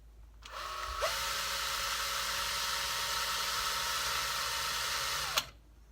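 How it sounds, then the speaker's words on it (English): A power drill starts up, whines steadily at high speed for several seconds while boring a hole into the side of a building, then cuts off, near and loud. "I'm gonna drill a hole into the side of the building"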